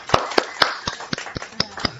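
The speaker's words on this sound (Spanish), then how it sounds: "un aplauso, por favor" A small group of family members claps outdoors after covering a pit of lamb being cooked Mexican-style: about eight crisp, separate claps over two seconds, close and uneven, with no talking.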